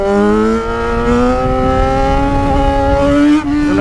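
A Yamaha XJ6 motorcycle engine revs steadily and loudly up close, its pitch climbing gradually over several seconds with a brief dip near the end; no one speaks.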